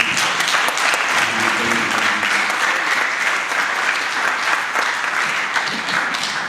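A lecture audience claps continuously and evenly at a public policy lecture, a thick, close wash of hands that stays at a constant loudness throughout.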